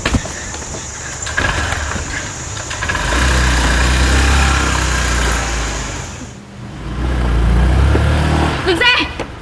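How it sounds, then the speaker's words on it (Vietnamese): A motorbike engine rumbles up loud and close, swelling into a steady low running drone, dipping briefly and then roaring again. "Nổ máy nhanh lên."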